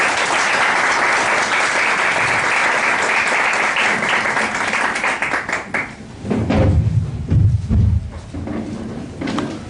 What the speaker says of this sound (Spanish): le cedo la palabra a nuestro conferencista con un aplauso